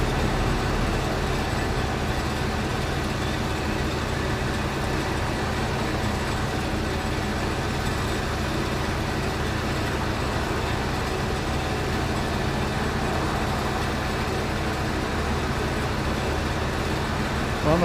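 A truck rumbles past near an airport runway, giving a loud, steady broadband roar that holds at the same level for the whole stretch.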